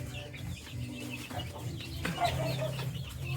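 Heritage hens kept for laying eggs cluck in a steady, close backyard chatter, with low murmuring calls running throughout.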